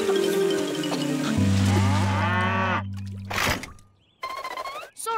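Cartoon cows moo loudly in long, drawn-out calls, one after another, with a brief splashing sound and quieter moments between.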